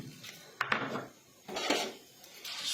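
Egg being beaten together with puffed rice in a bowl for a puffed-rice omelette, heard as a few short bursts of scraping and clinking against the bowl, close and moderately loud, with no talking.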